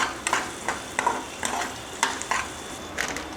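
Mustard seeds, cumin and chana dal fry in a pan for a home-style tomato curry, with a soft sizzle under a series of scraping stirs that come about every half second.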